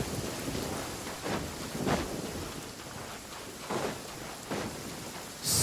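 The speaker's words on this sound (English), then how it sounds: "This heavy rain must be quite an inconvenience for you." Steady heavy rain in the video game Genshin Impact pours continuously, with a few swelling gusts or rumbles rising and falling through it; no voices.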